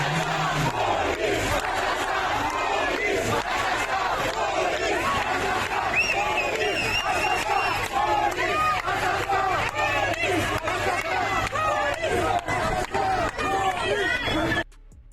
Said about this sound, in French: Police assassin scande la foule à Nanterre